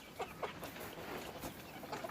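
Chickens cluck close by outside a shed, a few short distinct calls sounding in quick succession over steady outdoor background hiss.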